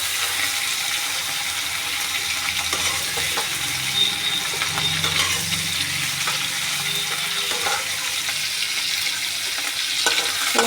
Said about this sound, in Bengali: তেলে পরে নাড়িয়ে তুলে নেব।